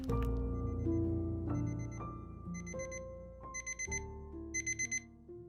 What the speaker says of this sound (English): Charles Ellingson awoke to the blaring sound of his alarm clock.